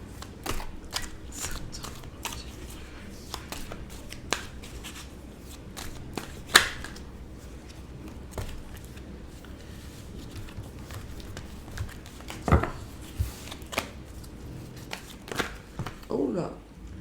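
Playing cards are handled and covered on a table, giving a string of soft, quiet flicks, taps and slides at irregular intervals, with a few sharper clicks standing out.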